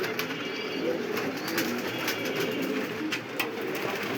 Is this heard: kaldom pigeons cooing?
yes